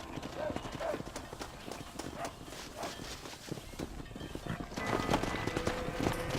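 Horse hooves clip-clop at a steady walking rhythm in the Red Dead Redemption video game on a ranch by a stable, close and continuous, with a character's voice talking over them and picking up slightly louder near the end.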